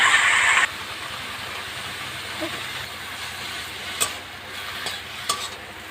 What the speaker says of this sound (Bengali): কালো জিরে ফোড়ন দিয়ে আর কুচি কুচনো কুমড়ো পাতাগুলো দিয়ে ভাজা করে নিচ্ছে